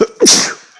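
One sharp, loud sneeze right up close, with a quick intake of breath just before the burst.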